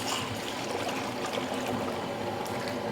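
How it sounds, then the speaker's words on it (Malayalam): Milk poured into caramelised sugar for palada payasam, a soft continuous liquid pour with faint trickling at an even, low level and no talk. "പാല് ചേർക്കുവാണേ."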